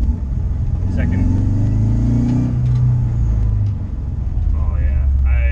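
A turbocharged Subaru Legacy RallyXT with a swapped JDM transmission accelerates on a test drive, its engine rumble climbing in a loud, close drone with a brief lull near the end, while a voice talks over it.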